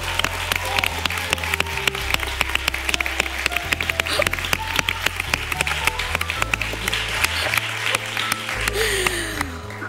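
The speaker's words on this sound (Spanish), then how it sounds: "aquí con el público aplaudiendo" A television studio audience applauds loudly and continuously for about ten seconds, with dense clapping over background music that shifts through several low notes.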